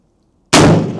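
Muzzleloader rifle firing a 100 grain black powder charge, a single loud, close blast that bursts out after silence and decays into a rumbling boom.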